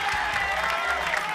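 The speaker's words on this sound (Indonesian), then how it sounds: "Kasih tepuk tangan dong." Brief burst of audience applause from a crowd watching a cotton candy vendor shape a sugar duck, a dense wash of many hands clapping at moderate volume with no talk over it.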